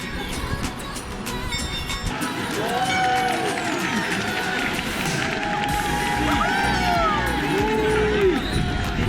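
A large crowd of tourists gathered at the Prague astronomical clock, a steady murmur of many voices with scattered shouts and cheers, loud and continuous, swelling slightly partway through.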